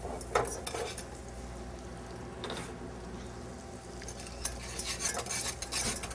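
One ounce of butter melting in a pan while being stirred, a soft steady sizzle with occasional scraping clinks of the utensil against the pan, close and fairly quiet.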